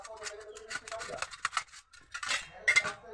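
Knife slicing through a partly boiled sweet potato on a cutting surface, a quick series of light scraping and tapping strokes, close and fairly quiet.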